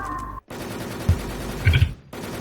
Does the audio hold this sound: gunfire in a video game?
yes